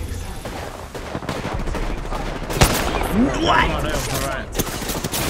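Gunfire in Apex Legends on the Storm Point map, dense bursts running through a chaotic firefight with one loud crack near the middle, while a player talks and shouts over it.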